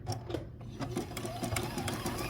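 A sewing machine runs a zigzag stitch on quilt appliqué, a soft, steady mechanical whirr with rapid needle ticking, fairly quiet and close under a low background hum.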